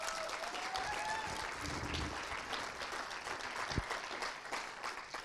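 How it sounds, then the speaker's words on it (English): An audience at an evening event gives a performer a warm round of applause, soft, steady clapping from a crowd heard at a distance, with a faint whistle early on. "One more big round of applause for her"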